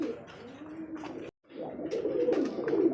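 A Bombay pigeon coos in low, throaty rolling phrases, close and fairly quiet, broken by a brief silence before the cooing resumes.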